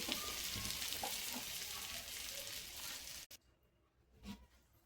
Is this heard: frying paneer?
yes